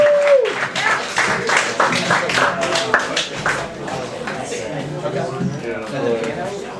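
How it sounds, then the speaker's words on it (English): A small open mic crowd breaks into applause, a lively spatter of clapping with whoops that tapers off over several seconds while a voice talks through it. "Let's have a big round of applause for Rashad Rastam, returning open micer"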